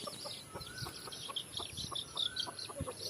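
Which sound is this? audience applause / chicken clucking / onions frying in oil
chicken clucking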